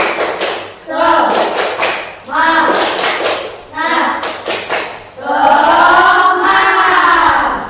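A classroom of children does rhythmic 'tepuk semangat' spirit clapping, sharp claps falling in repeated quick groups mixed with chanted voices, ending in a longer sustained shout.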